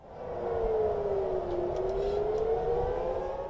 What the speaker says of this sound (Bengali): ইসরায়েলের তেলাভিভ ও জেরুজালেমে সতর্কতামূলক সাইরেনের শব্দ শোনা গেছে